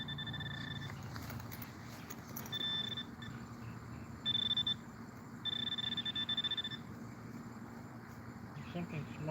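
A metal detector gives a high, steady electronic beep in repeated bursts of varying length over a small iron piece, with soft outdoor background noise.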